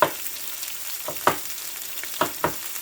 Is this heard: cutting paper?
no